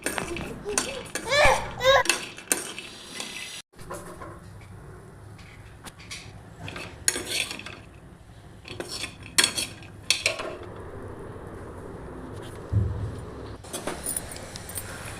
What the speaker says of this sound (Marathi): आता आपण मखाने भाजून घेऊयात तुपात भाजून घेऊयात छान असे